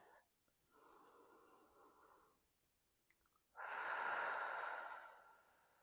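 Slow, deep breaths during a prenatal yoga pose: a soft inhale, then a longer, stronger exhale, heard close and alone in a quiet room.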